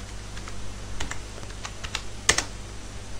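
Commands typed on a computer keyboard while setting up a Samba server on Linux: a quick run of close, crisp key clicks with uneven rhythm, one louder burst near the end, and no talking.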